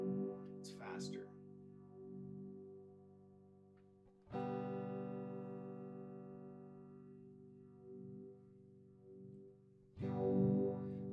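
Sustained guitar chords pass through the phaser of an EarthQuaker Devices Night Wire pedal, its swirling sweep cycling quicker, the whooshing notches rising and falling at a faster pace.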